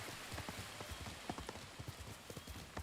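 A horse's hooves gallop in the Ghost of Tsushima video game, a quick, quiet run of soft thudding beats with light rustling.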